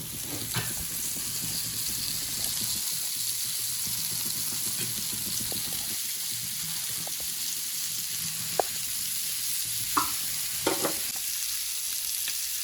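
Fish fries in sizzling oil, keeping up a steady hiss for the whole stretch, with scattered sharp pops and a few clinks and scrapes, close with no voices.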